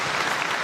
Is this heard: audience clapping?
yes